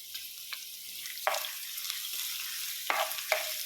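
Ginger frying in hot coconut oil, a steady soft sizzle with a few sharp scraping stirs of a spoon against the pan, close by and alone.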